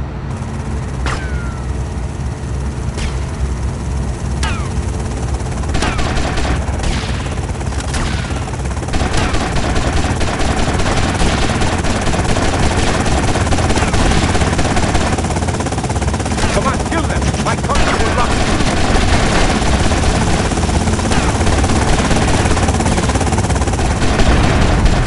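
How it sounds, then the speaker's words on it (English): In the video game GTA Vice City on mobile, a helicopter drones continuously while bursts of machine-gun fire and scattered shots crack repeatedly, loud and dense, with the gunfire intensifying partway through. "Got a helicopter!"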